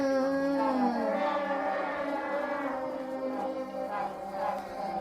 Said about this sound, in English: That's the sound of many Wookiees making noise at once.